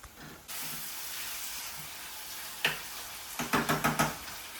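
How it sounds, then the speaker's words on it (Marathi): Tomatoes drop into golden fried onions in a hot pan, a broad steady sizzle rising suddenly and holding, then a single knock followed by a quick run of four or five spoon scrapes against the pan. "आता आपला कांदा असा गोल्डन जरा झालेला आहे आता आपण टोमॅटो टाकून घेऊयात"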